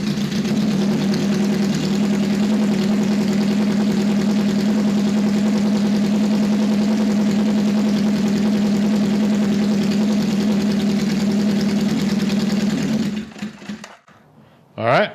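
An old motorcycle engine, one of a CB or KZ bike revived after ten years unused, idles loudly and steadily right after starting, a close rumbling drone that cuts out near the end, followed by a brief voice.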